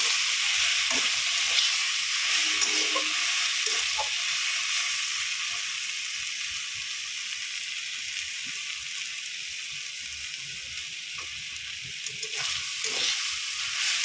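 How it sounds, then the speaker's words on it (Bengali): Spice paste with turmeric stirred into vegetables frying in a pan for a kulekhara greens recipe, a continuous close sizzle with intermittent scraping stir strokes, no talking. "মশলাটা ভালো করে সবজির মধ্যে দিয়ে নাড়াচাড়া করে নিচ্ছি।"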